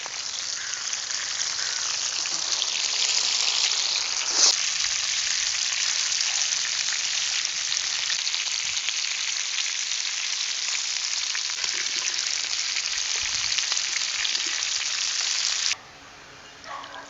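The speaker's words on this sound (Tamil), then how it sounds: "சிக்கனை வறுத்துக்கலாம்." A whole chicken, stuffed with vegetables, deep-frying in oil outdoors in a village kitchen gives a steady, dense sizzle that holds evenly for about fifteen seconds before dropping away suddenly to quiet.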